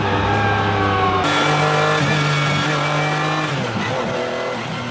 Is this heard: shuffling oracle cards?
no